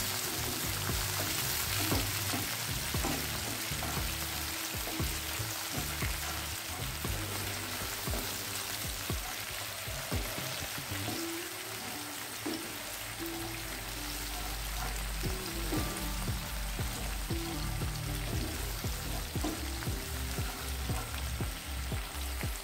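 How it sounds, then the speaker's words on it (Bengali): Ginger and green chillies sauté in a pan with a splash of water, a loud, bubbling sizzle that runs the whole time, broken by repeated spatula scrapes and taps and one short lull partway through. "আদা কাঁচা লঙ্কাটা 1 মিনিট একটু কষিয়ে নিলাম।"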